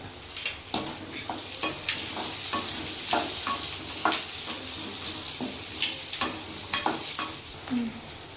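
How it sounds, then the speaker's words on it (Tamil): Onion and garlic sauté in a pan for a Tamil country-chicken curry, giving a continuous sizzle with repeated scraping and tapping of a spoon as the mix is stirred, close up and without talk. "வெங்காயம் வதங்கிச்சு, நம்ம பூண்டு சேர்த்து வதக்கலாம்"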